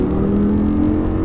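An Audi R8 engine pulls hard on the throttle, a loud close steady roar with a slowly rising tone over a brief moment.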